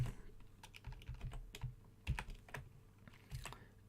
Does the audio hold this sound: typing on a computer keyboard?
yes